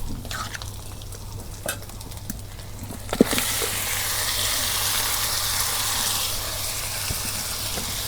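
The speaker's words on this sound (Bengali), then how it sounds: "এখন আমি চিকেনগুলো বাগার দিব" Chicken pieces for biryani hit hot oil after a few light clinks, bursting into a loud, broad sizzle that carries on steadily.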